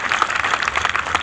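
A crowd at a political rally claps to welcome a guest, a brief burst of dense, close applause with overlapping hand claps, fairly loud and unbroken.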